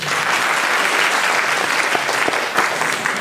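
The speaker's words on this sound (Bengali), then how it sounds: "একটি করতালি দেবেন।" An audience at a stage opening ceremony of a Bengali cultural convention claps in a dense, steady round of applause, loud and close, holding evenly for a few seconds.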